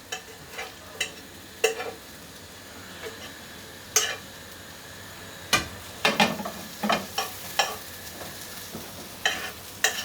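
Egg cooks in a pan on a home cooker as an omelette or scrambled egg, a soft steady sizzle under repeated sharp clinks and scrapes of a utensil stirring against the pan.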